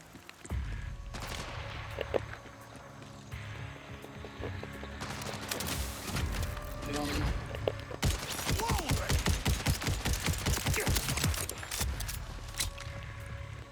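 Blind fire from a gun in Borderlands 4, a dense scattered fusillade of shots with background game noise, growing louder and more rapid in the second half.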